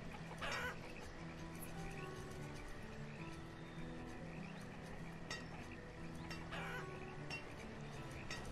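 Chickens cluck softly in the village-building game Banished, scattered faint clucks over a quiet, steady ambient game soundscape.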